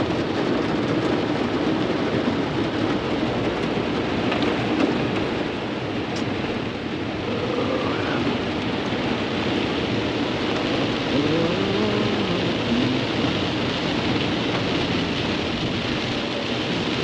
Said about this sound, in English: Raining just a little bit.